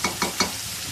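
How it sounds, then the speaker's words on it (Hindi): Salt, chili, turmeric and garam masala fry in a pan, three quick stirring scrapes over a soft, close sizzle. "और मैं कुछ मसाले के साथ थोड़ा फ्राई करूँगी"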